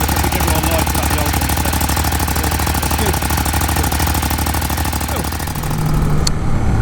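A Ducati Monster 821 motorcycle engine runs steadily, producing a loud, close, pulsing rumble with a rapid even beat that holds throughout and shifts slightly near the end.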